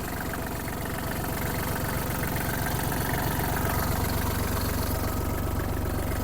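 A Kubota GL-261 Japanese mini tractor with a cab, its engine running steadily close by and loud, with a rising hum as the revs build. No voices are heard.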